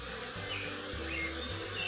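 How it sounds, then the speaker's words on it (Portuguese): Many kinds of bees, including mandaçaia, Africanised and European honeybees, buzzing around flowering jerivá palm blossoms outdoors, a steady close hum with faint birds in the background. "Tem de várias qualidades de abelha aqui, ó. Abelha manda-saia, tem abelha africana, essa Europa"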